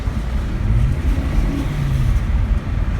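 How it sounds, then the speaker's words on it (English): Turbocharged car engine with a recently repaired overboost fault running steadily, a low rumbling drone with mild revving swells, close and continuous throughout. "just sounds like a turbo"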